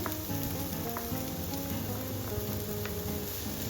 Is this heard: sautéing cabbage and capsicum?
yes